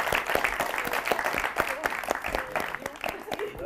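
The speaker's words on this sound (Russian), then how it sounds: "Аплодисменты, да." Applause from a talent-show audience follows a dance improvisation, with sharp individual claps in a moderate, uneven rhythm, fairly near, while someone talks over part of it.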